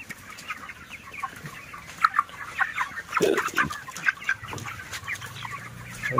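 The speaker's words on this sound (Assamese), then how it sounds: "এয়া হ'ল আমাৰ IB কোম্পানীৰ পোৱালি চাওক কিমান ধুনীয়া হৈছে" Flock of 28-day-old broiler chickens on a poultry farm, with dense overlapping clucks and chirps throughout and a louder burst of calls near the middle, no talking.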